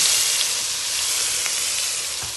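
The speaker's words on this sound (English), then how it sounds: "I'm gonna drop this piece of steak in." Piece of steak sizzling in a hot pan as it is cooked, a steady, bright frying hiss that stays loud and close for the whole moment with no voices over it.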